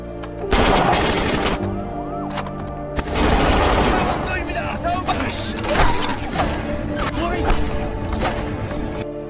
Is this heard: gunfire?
yes